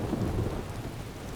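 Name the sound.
rain and thunder, from the video game Skyrim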